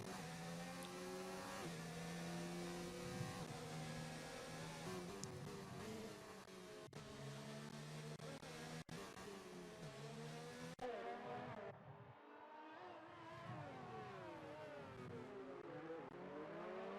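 Formula 1 race cars scream around the Monaco street circuit in the video game F1 2019. High engines rise and fall in pitch through repeated gear changes, and another car passes near the end. The whole pass sounds fairly quiet.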